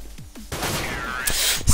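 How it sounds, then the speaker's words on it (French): Gunfire in a one-versus-one shooting video game match, dense rapid bursts and crackling shots merging into a loud continuous roar with a few sharp transients near the end. "Silver Crow qui se venge tout de suite en mettant un magnifique headshot en réflexe"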